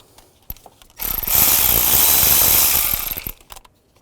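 On a Nissan Xterra, a ratchet loosens a valve cover bolt with a rapid clicking burst lasting about two seconds. A couple of sharp taps come before and after it, up close.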